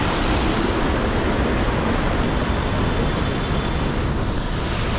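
Mountain stream water flowing through Achabal, a Mughal garden, a steady, loud, continuous rush of water with no pauses and no voices.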